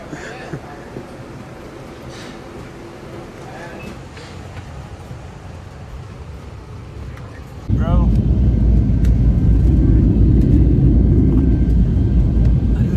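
A steady background hum gives way to a loud, constant low roar of engines and air, like inside an aircraft cabin, with brief chirps mixed in.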